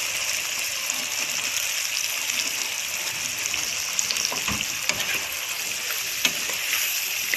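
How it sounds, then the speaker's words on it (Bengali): Brinjal fries in hot fish oil, a continuous hiss and bubbling sizzle with a few soft stirring knocks, close and even throughout, without speech. "বেগুন দিয়ে এটা ভালো করে ভাজবো"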